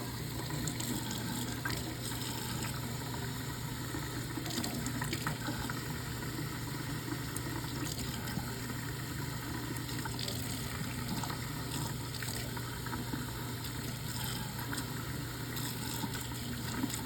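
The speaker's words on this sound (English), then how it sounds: "I'm going to clean under my nails under the running water." Running tap water flows steadily while someone cleans under their fingernails with a nail pick during hand-hygiene washing. It is a faint, continuous splash and trickle with no talking.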